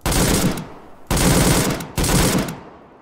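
PKM machine gun in Arma 3 fired in three long sustained bursts, loud and close, with short pauses between them and a fading tail after the last.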